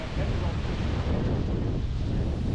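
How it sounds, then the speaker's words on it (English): Strong wind blows by the ocean at Seward, Alaska, a steady, loud roar of gusts buffeting the microphone for the whole stretch, with no voices. "Ooh, it's windy"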